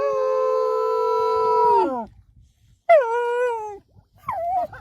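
A puppy cries in a long, drawn-out whine that falls off, followed by two shorter whimpering cries, close and fairly loud.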